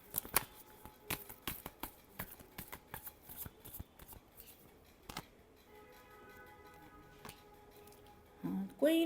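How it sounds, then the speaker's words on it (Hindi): Tarot cards shuffled by hand, a series of soft irregular riffling snaps and flicks, close and quiet, ending in a brief louder handling sound. "Last shuffle."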